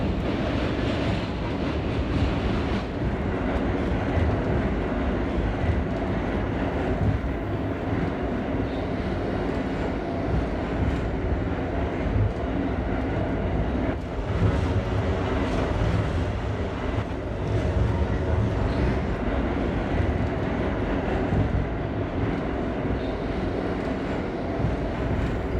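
An R32 subway train in a video game runs continuously, a loud steady rumble with rail noise and faint clickety-clack, sustained throughout with no talking.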